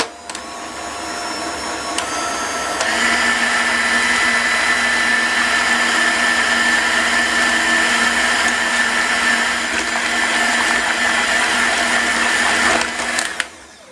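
An electric mixer whips cream into a Basque burnt cheesecake batter in a bowl, a steady loud motor whir that holds for over ten seconds before cutting off.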